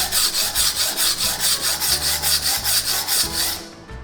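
Kitchen knife of the Seki Magoroku brand being sharpened on a whetstone to repair a chipped edge, a steady rhythmic scraping that rasps back and forth about four times a second, close and loud with no talk, easing off at the end.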